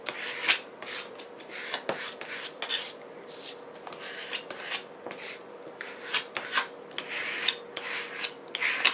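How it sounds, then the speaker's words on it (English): A small card rubs and scrapes across paper in a craft journal, smoothing it flat with a series of soft, irregular rasping strokes, close and quiet, with no talking. "Grab a little card to make sure it's properly smoothed out."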